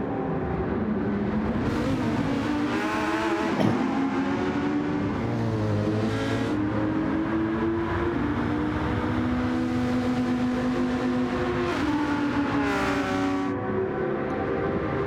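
An Audi race car in a racing video game closes in from behind, its engine droning loud and continuous with rising and falling pitch as gears shift, layered over another car's steady engine, with no talk.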